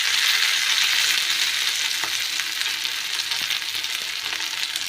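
Onions and tomatoes sizzling in hot oil, a constant close crackle with faint stirring clicks and no talk.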